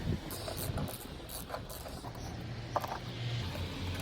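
A ratchet clicks in quick, faint bursts while 8mm bolts are tightened to secure the wiper motor on a Ford E250 van, quiet and close with small mechanical creaks between strokes.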